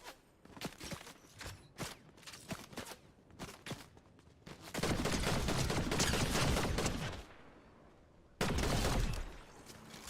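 Fortnite gunfire comes in quick separate shots at first, then turns to dense rapid bursts, one long stretch and a later short blast, loud and close with brief gaps between.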